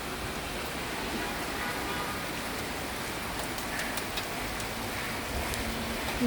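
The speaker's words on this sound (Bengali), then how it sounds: "প্রচুর বৃষ্টি, প্রচুর।" Steady rain falls as a dense, continuous hiss with faint scattered drops, even and unbroken throughout.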